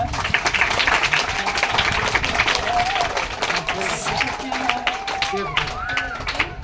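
Students at a school Children's Day event applauding loudly for sports prize winners, a dense, sustained burst of clapping from a crowd with some background chatter.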